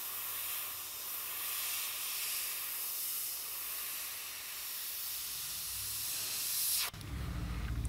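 An airbrush sprays paint onto a wooden trout bait, giving a steady close hiss of air that holds for several seconds before stopping abruptly, followed by a short, quieter low rumble.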